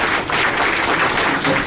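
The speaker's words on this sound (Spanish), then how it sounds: "vamos a recibirlos con un fuerte aplauso" An audience at a public defenders' information event claps loudly to welcome arriving speakers, a close, full burst of applause sustained for the whole moment.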